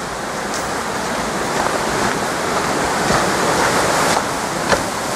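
Continuous rushing water roars steadily under a road on a hiking trail in Japan, a dense broadband wash with occasional splashy surges, no voices present.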